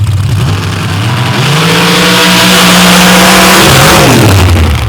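An outlaw drag racing car launches down a North Florida drag strip, its engine roaring loud and close as the revs climb and hold, then dip briefly near the end, with no talk over it.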